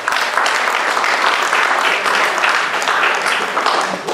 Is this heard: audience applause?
yes